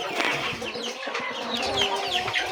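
Chickens at a poultry farm clucking and calling in quick overlapping bursts, close and fairly loud, a busy flock with no one talking.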